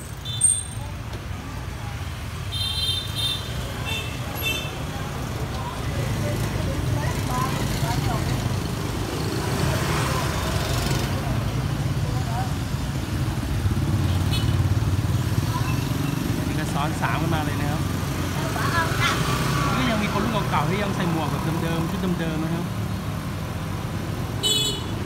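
Street traffic in Hoi An carries a steady rumble of motorcycles and cars, with short horn toots here and there and someone talking over it.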